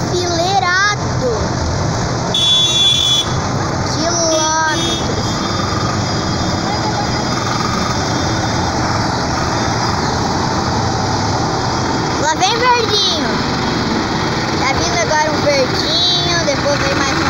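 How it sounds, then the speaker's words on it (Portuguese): Tractors driving in a line at a tractor parade festival, a continuous low engine rumble of passing heavy vehicles with a few brief higher tonal sounds, while a person talks over the noise. "É trator enfileirado."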